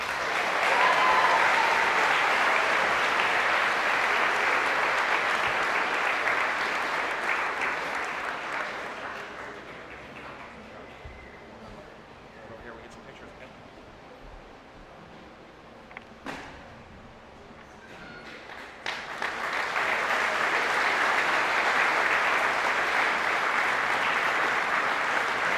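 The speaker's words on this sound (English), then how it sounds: "one more big round of applause for our Accelerated Reader winners" An audience at a school moving-up ceremony applauds in two loud sustained bursts with a quieter lull between them, the clapping broad and continuous.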